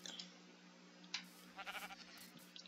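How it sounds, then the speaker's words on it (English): Sheep bleating in the Minecraft video game, a few short bleats over a steady low game hum, moderately faint with no talk. "Here's a sheep."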